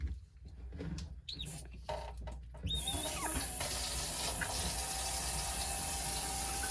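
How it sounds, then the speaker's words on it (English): Faint handling noises give way to a sudden steady rush of hot water flowing through washing machine hookup pipes in an apartment laundry connection, a continuous hiss that carries on to the end. "We're going to turn back on the hot water."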